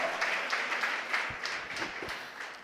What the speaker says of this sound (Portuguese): Você pode aplaudir o Senhor?